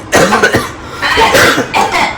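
Several close, harsh coughs in quick succession, loud and alone with no speech.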